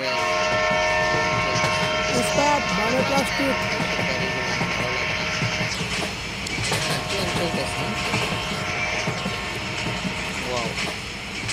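A train in a video game rumbles past with a sustained horn blaring over the clatter, while a person talks over the noise.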